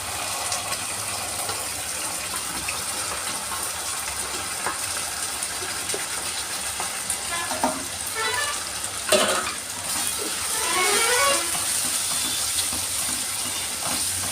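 Masala with ginger frying in a nonstick pan, a steady loud sizzle with scraping stirring strokes and a few clattering bursts midway, with no talking.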